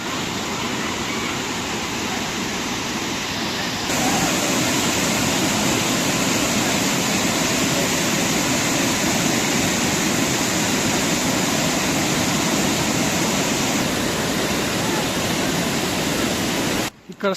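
The Penna river flowing behind a goddess temple near Ahobilam: a dense, continuous rushing wash of water, loud and steady, growing fuller after the first few seconds, with no talk over it.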